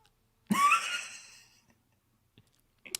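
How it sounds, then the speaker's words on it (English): A cat gives a single clear meow, rising and then fading over about a second, followed by near silence and a couple of faint clicks. "Nope, we got a cat."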